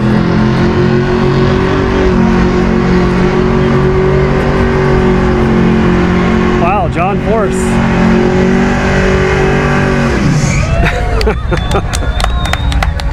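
A 1981 Pontiac Firebird Trans Am WS6 301 Turbo drag racing, a steady loud engine roar with crowd noise and an announcer talking over it, then the roar drops away near the end.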